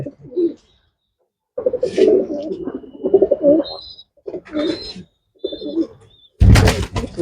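Racing pigeons about five to six months old coo in low, throaty phrases close by, repeating in short bursts with pauses, ending in a brief rustle like flapping wings.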